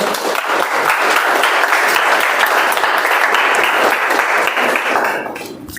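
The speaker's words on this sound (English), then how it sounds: "we all can give them applause" Members at a Toastmasters club meeting applaud the speakers, with loud, sustained clapping from a room of people that stays strong before tapering off near the end.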